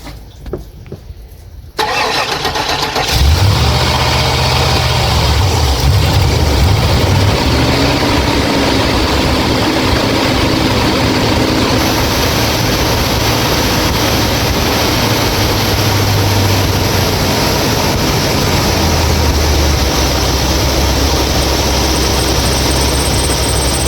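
A 2000 Chevrolet K2500 truck with a cold-start problem cranks briefly, then its engine catches and roars, running loud, close and steady with a rough, surging idle that continues throughout.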